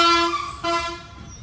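A loud, sustained state-run RTC bus horn blares close by on a Vizag street, briefly dipping once before sounding again and fading out.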